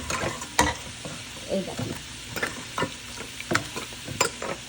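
Chicken is stirred around a frying pan, a spoon scraping in uneven strokes over a soft sizzle, with a few sharper knocks against the pan and a brief spoken remark.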